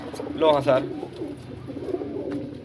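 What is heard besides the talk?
pigeons in a loft compartment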